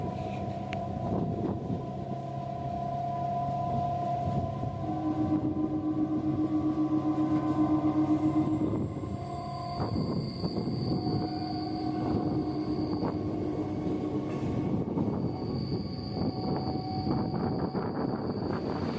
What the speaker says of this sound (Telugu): ఇక్కడ కనిపించే ట్రైన్ వచ్చేసి నిజాముద్దీన్ తిరుపతి సంపర్క్రాంతి ఎక్స్ప్రెస్